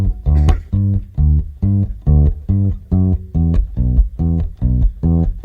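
Bass guitar, standing in for an acoustic bass, plays a bluegrass-style intro: about eleven evenly spaced, punchy plucked notes in a steady walking rhythm, loud and close, with no voices.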